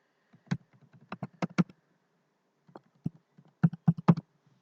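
Short bursts of keystrokes on a computer keyboard as a password is entered during a website registration, quiet and close, with pauses between clusters of taps and no talking.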